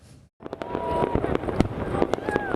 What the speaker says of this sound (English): Fireworks explode over the ancient Parthenon in Athens as Greece welcomes the new year.